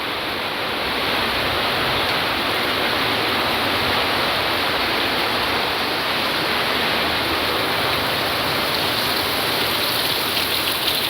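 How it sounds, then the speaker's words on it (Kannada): Heavy rain pours down steadily throughout, a dense, loud, even roar with no pauses, no voices and no distinct individual drops standing out. "ಫುಲ್ಲು ಜೋರು ಮಳೆ"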